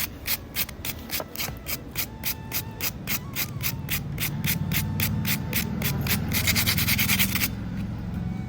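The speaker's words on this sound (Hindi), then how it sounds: "इसका क्रिस्पीनेस आप सुन ही सकते हैं" Crispy poha and curd snack crunches in a steady, evenly spaced series of sharp, close bites or presses, speeding into a denser burst near the end, with no talking.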